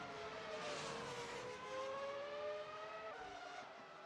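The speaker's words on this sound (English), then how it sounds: "how good do these cars sound? Bring back the V10" High-pitched Formula 1 racing engines in a video game, set at Indianapolis, whine steadily, pitch rising and falling as cars pass, fairly faint and continuous with no talking.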